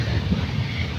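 Inside a moving night train between Diva and Ratnagiri, a steady, dense rumble of wheels and carriage fills a brief moment, even and continuous with no talk.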